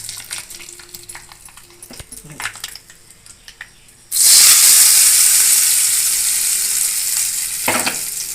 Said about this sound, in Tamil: இப்போ நம்ம சட்னியை தாளிச்சிடலாம்.